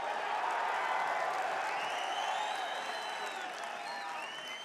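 A large crowd at a UFC press conference in Perth roars with sustained cheering, applause and whistles, a dense continuous wall of noise heard from within the room.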